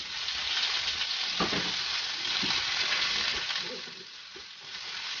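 Sliced chicken hotdog frying with browning garlic in a pan, giving a steady close sizzle with occasional stirring knocks throughout.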